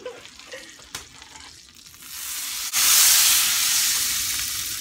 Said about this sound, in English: Now you put these in the frying pan.